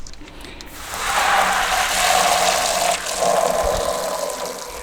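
Tap water gushes steadily into a home-brewing fermenting container for a rinse, a loud continuous pour lasting several seconds with a slight dip in the middle and no talking.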